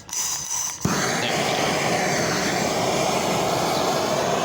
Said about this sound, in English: we're gonna go ahead and heat it again, and I'm just using this propane torch here